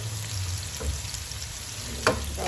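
Onion, galangal and spices sauté in a hot pan for a squid balado dish, giving a steady close sizzle with soft stirring scrapes throughout and no talking.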